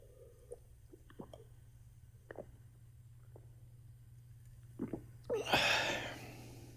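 Homebrewed ESB beer being sipped at close range, a few soft wet slurps and swallows with small drips, ending in a louder fizzy gulp against a steady low hum.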